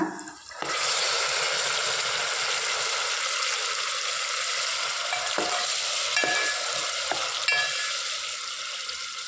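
Onions frying in a pan for vegetable sambar give a steady, close sizzle throughout, punctuated by a few light clicks of stirring, with no one speaking.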